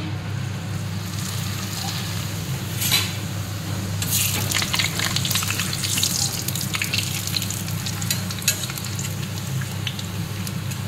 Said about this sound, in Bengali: পাঁপড় ভাজছি।